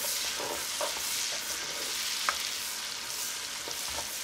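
Diced sweet Vidalia onions sauté in a pan for corn chowder, giving a steady close sizzle broken by a few soft scraping stirs, with no talking.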